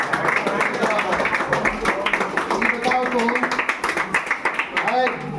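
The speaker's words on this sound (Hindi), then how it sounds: "ताली मारो, ताली मारो, ताली मारो" A classroom of students claps hands together in a quick, rhythmic patter of many overlapping claps, while a teacher's voice talks over the clapping throughout.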